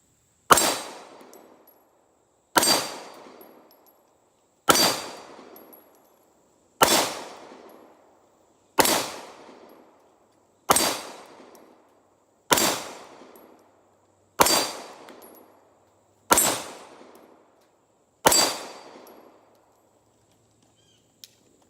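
A CZ P10C 9mm striker-fired pistol fired ten times at a slow, even pace, each loud sharp report about two seconds apart with a decaying echo, no talk.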